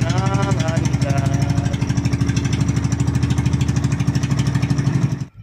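A fishing boat engine runs loudly and steadily throughout with a dense, rapid mechanical chugging, close and dominant, with a brief voice heard near the start before the engine cuts out at the very end.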